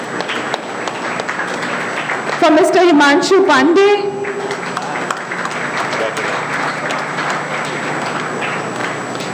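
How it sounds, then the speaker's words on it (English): An audience at an advisory board meeting claps in a steady wash of applause from start to finish, while a man announces a name and another voice rings out briefly over the clapping. "Guys, give a huge round of applause."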